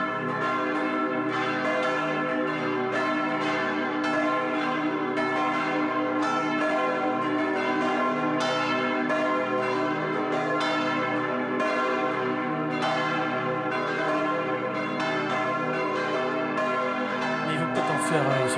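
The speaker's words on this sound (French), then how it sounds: "Et 15 minutes de cloche, non, je vous rassure, on va en mettre un peu moins." Church bells ring in a bell tower, a loud, continuous, full peal that sustains throughout with overlapping strikes and no talking.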